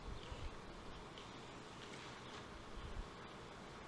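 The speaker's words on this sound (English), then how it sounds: "quite a few bees up in the air here" Bees buzzing in the air around a hive, a steady low drone with faint wind noise, quiet and continuous throughout.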